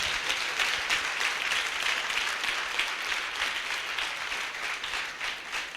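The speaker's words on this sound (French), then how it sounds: "nous devons acclamer le Seigneur pour la vie de notre papa ce matin" Congregation applauding and acclaiming during a church service, a dense, steady wash of clapping and voices that fills the space evenly without pause.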